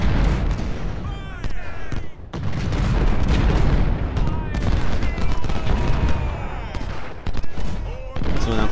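Civil War battle gunfire in Ultimate General: Civil War, dense overlapping musket volleys and booming cannon shots crackling without pause, loud and close, with someone talking over the firing.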